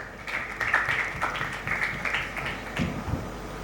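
Applause welcoming a poet onto the stage at a Hindi comic poetry gathering, a crowd clapping in uneven bursts at moderate loudness with no speech over it.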